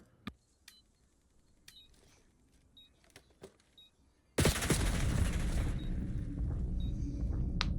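A competitive shooter video game: scattered sharp clicks and shots at first, then a sudden loud burst of heavy gunfire and noise that continues densely to the end, no talk.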